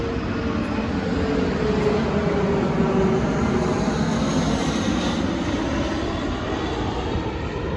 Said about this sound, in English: Get this jet land.